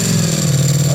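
A race replica motorcycle with full exhaust revving, a loud close buzzing roar held steady for a moment, with no talking.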